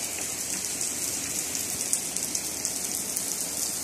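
Heavy rain pours down in a dense, steady hiss, close and loud throughout, with soft spatters on surfaces and no voices over it.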